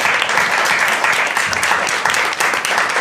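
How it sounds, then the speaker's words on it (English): Dense, steady applause from an audience at an evening alumni panel event on a university campus, continuous and loud for about three seconds with no voices standing out. "Let's give them a round of applause."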